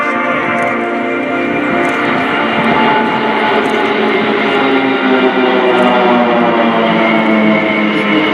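Pilatus PC-7 propeller aircraft of the Swiss Air Force team flying past in formation at an airshow at RIAT, a loud steady engine drone with shifting tonal harmonics, sustained throughout without talk.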